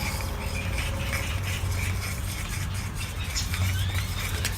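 A stirrer mixes resin with hardener drops in a small container while building a Ghostbusters proton pack costume, a soft steady scraping and swishing that continues faintly and evenly under a low background hum.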